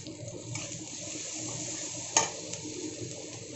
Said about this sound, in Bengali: এখন এখানে আমি একটুখানি জল দিলাম